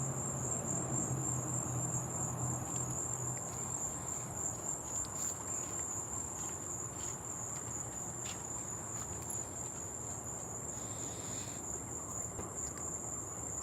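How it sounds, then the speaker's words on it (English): A constant high-pitched chorus of crickets chirping steadily throughout, with faint rustling and soft background noise underneath. "now I hear a lot of crickets and some other things"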